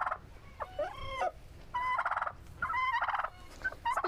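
Turkeys gobbling in a barn, several loud rattling gobbles in quick succession from birds close by, one answering another, with no talk over them.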